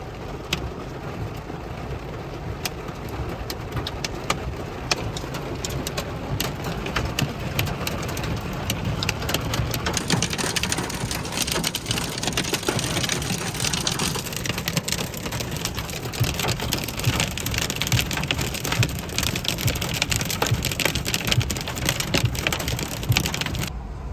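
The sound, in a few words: hail and rain hitting car during storm chase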